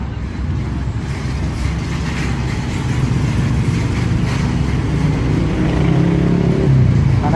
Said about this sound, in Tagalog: maayos ang daloy ng trapiko mga ka-idol.